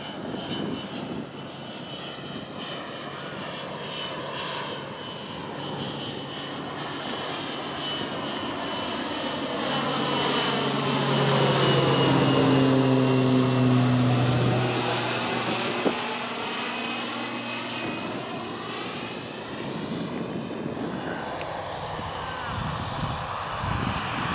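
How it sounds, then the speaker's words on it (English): A Kodiak airplane arrives at an EAA chapter fly-in, its propeller engine droning as it approaches, swelling to a loud, sweeping pass with a shifting pitch, then fading away. "in came the Kodiak from Park Rapids, flown by Mark Matheson"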